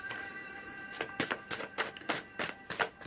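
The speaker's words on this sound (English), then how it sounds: "I'll shuffle again." A run of soft, quick riffling slaps as tarot cards are shuffled close by, about ten brisk bursts in an uneven rhythm.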